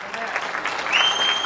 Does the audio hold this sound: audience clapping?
yes